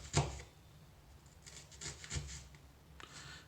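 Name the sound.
knife cutting onion on cutting board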